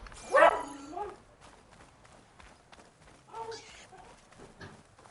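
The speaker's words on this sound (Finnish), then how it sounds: "Timsku, älä viitti haukkua." A dog gives one sharp bark near the start, followed by quieter scattered sounds and footsteps with a fainter yip or bark later on.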